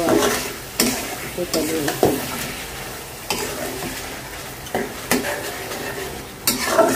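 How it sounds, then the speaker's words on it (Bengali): Shing fish being stir-fried in a pan, with a loud, close sizzle and repeated scraping strokes of a spatula at an uneven rhythm, and one short spoken remark. "মাছটা ভালো করে কষাই নেব"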